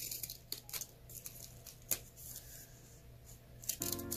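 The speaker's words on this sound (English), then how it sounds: "I'm using the scissors because I just do not want her to cut herself." Soft, intermittent snips and crinkles of scissors cutting paper snowflakes, close by, with short irregular bursts and a low steady hum underneath.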